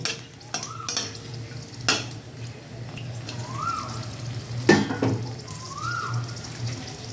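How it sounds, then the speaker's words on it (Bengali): Three dried red chillies frying in hot oil, a steady close sizzle with occasional stirring scrapes and a few sharper clinks of the utensil against the pan, no voices. "গরম হয়ে গেছে আমি তিনটে শুকনো লঙ্কা দিলাম শুকনো লঙ্কাটা একটু জাস্ট একটু কালার করে নেবো"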